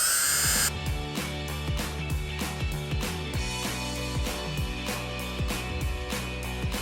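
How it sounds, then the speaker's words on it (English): Power drill driving a screw into the final board of a pallet-wood deck, with a busy buzzing motor whine that repeatedly revs and stops in short bursts, close and fairly loud. "So now I just drill in the final piece to the puzzle"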